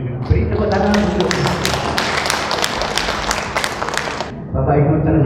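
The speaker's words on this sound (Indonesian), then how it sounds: "Beri tepuk tangan untuk" Seminar audience bursts into applause for a speaker, dense sustained clapping across the room for about four seconds before fading as talk resumes.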